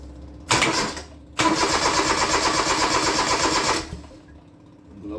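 A Kubota 662 diesel engine cranks briefly, catches, and roars loudly for about two and a half seconds before cutting out abruptly, close up, with no voices.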